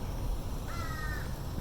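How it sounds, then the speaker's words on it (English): A crow caws loudly outdoors, a single drawn-out call standing out over steady wind and background rumble. "Why does that bird have to bother my video?"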